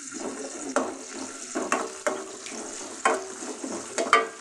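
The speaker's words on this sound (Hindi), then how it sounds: "यहाँ हम इसमें प्याज ऐड कर रहे हैं, ये प्याज को देखें सौते करेंगे" Onions sautéing in about two spoons of oil in a pan, with a soft steady sizzle punctuated by several sharp stirring scrapes and knocks, close and alone without talk.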